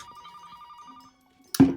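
A telephone bell rings in a Buffy the Vampire Slayer season 4 episode, a steady repeating electronic trill that stops abruptly before a sudden loud burst of noise.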